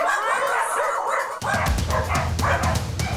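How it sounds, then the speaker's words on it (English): Four dogs bark repeatedly inside a filthy shed, loud sharp woofs mixed with yips and whimpers in an echoey enclosed space. "The sound of more barking in a nearby shed leads Vicky to a further discovery."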